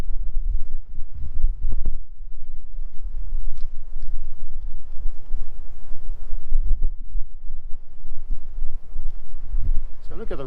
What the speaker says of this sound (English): it's really windy, so probably hear it on the mic